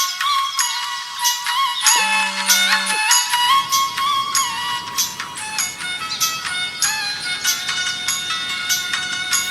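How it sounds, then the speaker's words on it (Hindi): A melodic electronic ringtone sounds briefly, then continues under dense, busy background music, fairly loud and steady throughout. "फोन बजे थे ऊपर"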